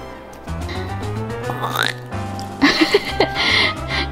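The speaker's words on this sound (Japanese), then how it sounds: "ゲップしたの？" A small, low burp comes through under steady talk in a home, followed by a few short, higher squeaks.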